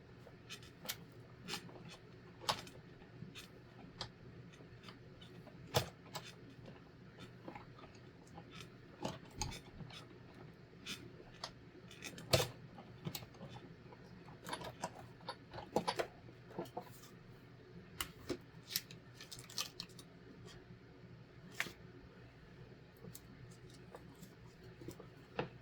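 A die cutting machine pressing metal dies through material gives a long run of faint, irregular clicks and ticks over a low steady hum, with no talking.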